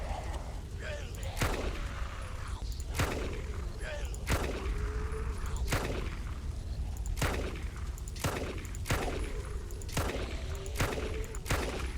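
Gunshots in the Resident Evil Code Veronica fan remake video game, about ten sharp, evenly spaced shots over a steady low game rumble, loud and close.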